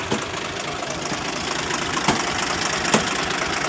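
An old tractor engine idles steadily outdoors at night, a continuous rough, rumbling drone with a couple of brief knocks and no speech over it.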